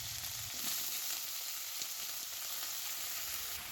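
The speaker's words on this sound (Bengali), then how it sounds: "তেলটা গরম হতে থাকলে সবজিগুলো এর মধ্যে দিয়ে দেবো।" Vegetables frying in hot mustard oil in a wok, a steady, fairly quiet hiss of sizzling oil that runs unbroken throughout with no speech.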